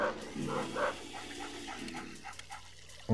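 A dog in the Luigi's Mansion video game gives a few soft barks and whimpering yips at moderate loudness, with no talking over them.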